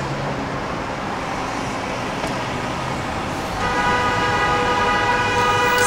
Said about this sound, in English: they gonna honk at you here